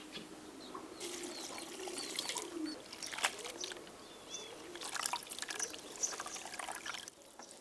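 Salted shredded yellow zucchini is rinsed with water in a kitchen, producing faint, soft splashing and trickling in scattered bursts.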